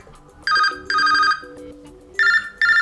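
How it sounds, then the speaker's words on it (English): A bright electronic phone ringtone on an LG K61 repeats in short melodic bursts, clear and close, with a soft tune underneath and brief gaps between rings. "pick the ringtone that you would like to apply"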